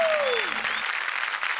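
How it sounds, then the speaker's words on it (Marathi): Loud audience applause at the close of a Marathi comedy stage show, a dense wash of clapping held for the whole short stretch. "जोरदार टाळ्या"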